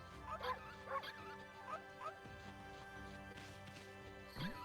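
A cartoonish game dog from Okami gives a run of short yips and whimpers, several quick bright barks spaced across the stretch with a rising whine at the end over light game ambience.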